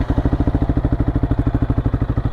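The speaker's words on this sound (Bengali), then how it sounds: "এই যে এ হচ্ছে আইডল আরপিএম এ এমন সাউন্ড হবে।" Yamaha MT-15 motorcycle fitted with an Akrapovic R1M exhaust idling close up: a steady, rapid, even pulsing thump with a deep throaty tone, heard alone without talk.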